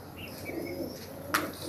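A pigeon held in hand during pigeon keeping gives a soft, brief coo, faint against low background noise.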